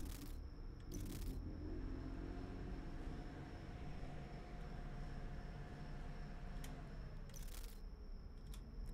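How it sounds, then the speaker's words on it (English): A car sound cue in the horror video game Scrutinized: a steady low engine-like rumble with a faint passing whine, plus a few brief bright clicks, no talk. "Car sound cue."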